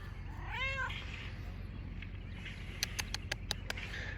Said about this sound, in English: He might be a feral cat.